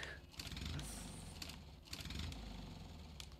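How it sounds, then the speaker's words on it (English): A Lada car engine in Jalopy churns through two faint, sputtering cranking attempts with a brief gap between them, never catching. "It's like starting a lawnmower."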